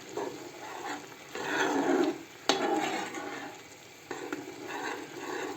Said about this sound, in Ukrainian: Вони киплять і отак просто помішуємо.